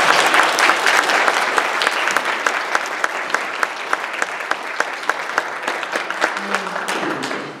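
An audience claps loudly for Daniel after his great job, a thick, continuous burst of many hands with crisp individual claps standing out, staying strong before easing slightly toward the end.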